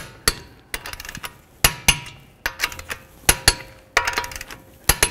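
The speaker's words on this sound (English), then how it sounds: "I'm gonna torque these to 80 foot-pounds in a star pattern." A torque wrench tightens the wheel lug nuts on a 2014–2017 Infiniti QX50, giving sharp metallic clicks and knocks in irregular clusters, close and loud, with short quiet gaps between bursts.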